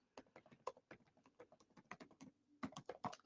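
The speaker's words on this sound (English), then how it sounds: "And I'm going to type" Rapid, uneven tapping of fingers on a computer keyboard, close and fairly quiet, with clustered keystrokes and a brief pause in the middle.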